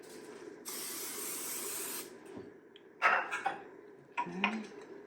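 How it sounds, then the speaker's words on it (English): A steady hiss of cooking spray onto donut pans for over a second, then clinking of the metal pans being handled, close by and fairly quiet. "we're going to spray them with some cooking spray"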